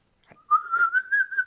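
A person whistles a short rising-then-steady note, imitating a pro wrestler's signature whistle, clear and close with a slight wavering pulse, heard alone.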